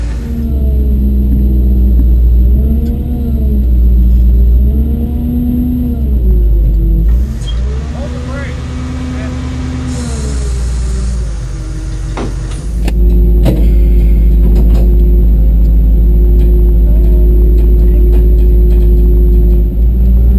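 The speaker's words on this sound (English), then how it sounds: "let the winch do the work" A recovery truck's engine idles loud and close while its winch pulls a GMC Jimmy, a steady low rumble with a strained motor whine in the middle and an engine surge near the end.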